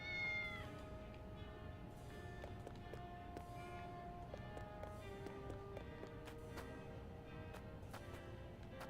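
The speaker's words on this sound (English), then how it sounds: "Cat." Cat meowing in the video game Triangle Strategy, one clear meow at the start followed by game chimes and tones over a low steady background bed.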